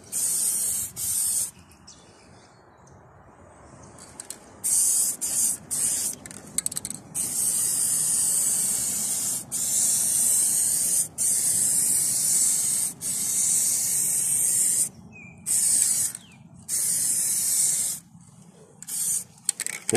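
Spray gun laying a final coat of paint over the body of a bus, a steady close hiss in repeated bursts separated by short pauses as the trigger is released.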